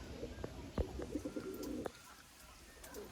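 A pigeon coos in a loft, with soft, repeated throaty coos over the first two seconds before the sound drops to quiet room background.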